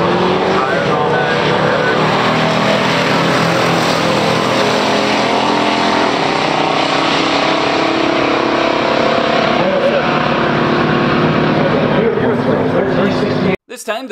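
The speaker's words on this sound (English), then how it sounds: "1971 Buick Grand Sport, Stage 1 car, going against Dave Doyle with his 440 Cuda" A 1971 Buick GS455 Stage 1 and a 1969 Plymouth Barracuda 440 roar flat out side by side in a pure stock drag race, a loud sustained V8 blast that holds steady before cutting off abruptly near the end.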